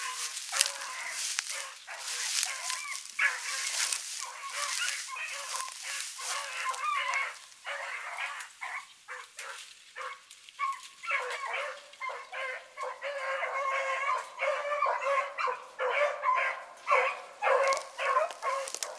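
Several dogs bark excitedly in quick, overlapping bursts as they get ready to jump, loud and close throughout with no talking.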